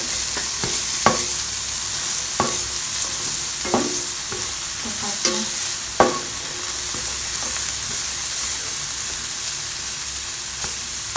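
Onions sautéing in a pan for a santol dish, a steady broadband sizzle with several sharp utensil scrapes and taps as they are stirred, close and alone with no voices.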